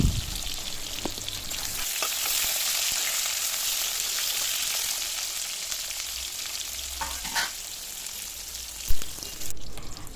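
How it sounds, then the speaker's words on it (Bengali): Pointed gourd (potol) frying in hot oil in a wok, a steady close sizzle lasting throughout with a couple of brief stirring clinks and scrapes near the end. "এবারে কড়াইয়ে তেল দিয়ে আমরা প্রথমেই পটলগুলো লাল লাল করে ভেজে নেব।"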